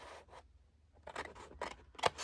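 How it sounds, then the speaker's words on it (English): Tim Holtz recoil scissors snip through paper in several quick, close cuts, with crisp bursts arriving in a loose rhythm after a quieter opening snip. "They're the recoil scissors."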